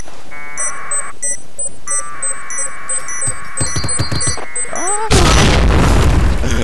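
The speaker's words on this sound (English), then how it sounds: "I'm gonna blow this shit up" A loud, booming explosion in a video game bursts in near the end, after a stretch of electronic beeps, tones and game effects.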